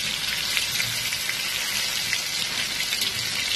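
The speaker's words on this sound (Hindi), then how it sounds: "हम दूसरी तरफ फ्राई के लिए फिरा लेंगे" Bangda fish frying in hot oil, turned over to the other side, with a constant dense crackling sizzle, close and fairly loud, that holds steady throughout.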